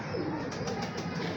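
A pigeon coos softly nearby, a brief low throaty murmur against faint background noise.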